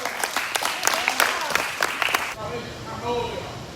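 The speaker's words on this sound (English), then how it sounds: "Clap it up." A room of listeners at a social media talk breaks into clapping, a dense burst of hand claps that cuts off abruptly, followed by a voice speaking alone.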